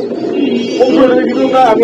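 Pigeons coo in low, throaty rolls at a pigeon seller's stall, close and fairly loud, blending with nearby voices talking over them.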